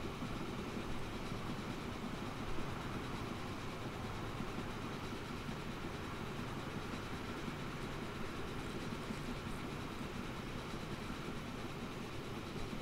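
A train runs steadily through a rail transport simulation game, its engine and rolling wheels forming a constant, even rumble with no pauses or voices.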